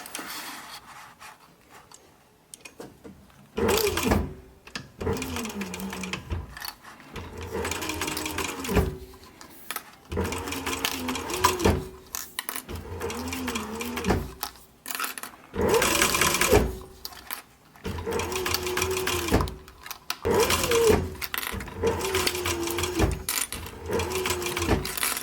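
A sewing machine stitches a seam on a military patrol cap in repeated bursts of rapid whirring, stopping and starting every few seconds close by, under occasional quiet talk.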